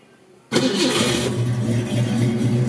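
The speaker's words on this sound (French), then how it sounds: "démarrage, donc elle démarre très bien" A 1966 Ford Mustang V8 coupe cranks and fires up after a quiet moment, settling straight into a loud, steady, close-up idle rumble with no talking.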